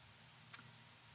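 A single soft tap-click on an iOS cannabis app, one brief faint tick in quiet surroundings.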